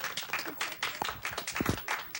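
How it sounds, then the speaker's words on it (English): Small audience at a magic show clapping in a scattered, light round of applause, fairly quiet and brief, with uneven claps and no talk over it. "Hold your applause."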